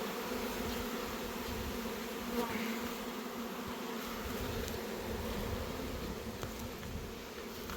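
A dense, continuous buzz of many agitated honeybees hums steadily at the hives during a honey harvest, a busy swarm drone with no voices.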